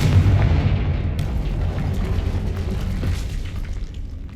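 A Confringo spell explosion in Hogwarts Legacy, a loud, heavy booming blast with a deep rumbling roar that sustains for several seconds before slowly fading.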